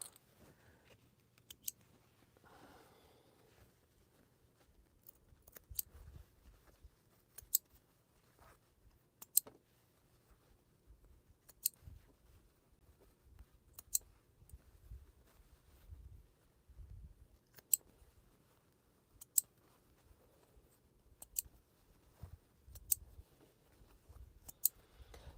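Scissors snipping through a long strip of quilting fabric, a quiet room with crisp single cuts spaced every second or two, some soft handling rustle between them.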